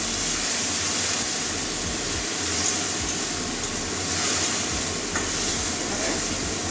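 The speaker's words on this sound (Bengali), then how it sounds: "এবারে জল দিয়ে মশলাটা কষিয়ে নেবো অল্প অল্প জল দিয়ে দেবো" Spice masala frying in a pan with a little water while being stirred, for a lote fish dish with lemon: a loud, steady, close hiss and sizzle, with faint stirring scrapes and no talk.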